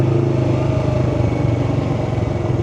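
A Yamaha R3 motorcycle engine running at a steady, throbbing idle-to-low rev, close and loud, with a faint mechanical clatter and no clear rise or fall in pitch, and no talk.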